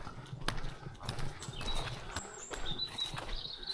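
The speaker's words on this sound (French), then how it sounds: "Les chevaux sauvages." Wild horses walk past on a mountain trail, hooves clip-clopping steadily at close to moderate range over a faint outdoor background, with no talk.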